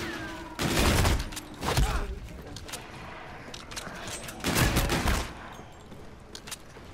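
Pistol fire in the video game Call of Duty: Infinite Warfare: several loud, close bursts of shots around the first and fifth seconds, with quieter game noise and faint sounds between them.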